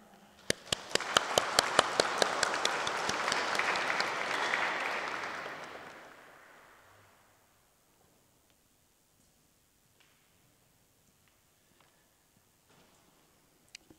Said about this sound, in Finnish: Ja annetaan hänelle kiitos taputtaen.